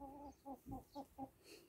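A voice imitates a chicken or rooster, a short run of five clucking "ko" calls in an even rhythm, fairly quiet and close.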